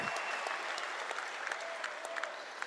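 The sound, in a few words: stadium crowd applauding championship baseball team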